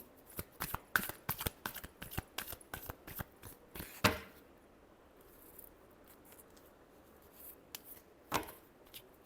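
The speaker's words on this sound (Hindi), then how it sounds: "Last shuffle." Tarot cards being shuffled by hand, a quick run of soft riffling snaps for several seconds, then near quiet broken by a single later flick of the deck.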